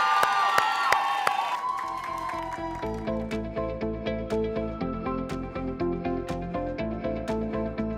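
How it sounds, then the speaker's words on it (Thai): Applause and cheering from an audience at a Thai children's talent show greet a 12-year-old girl performer; the crowd noise fills the first second or so before rhythmic stage music takes over. "ขอเสียงปรบมือดังให้กับโชว์จาก"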